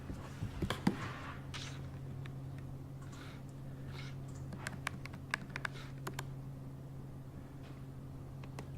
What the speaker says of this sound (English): I can type happily.